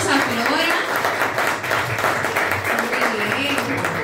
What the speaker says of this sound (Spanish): Vamos a darle un fuerte aplauso a Flora.